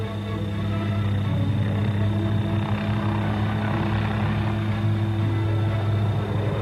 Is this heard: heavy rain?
no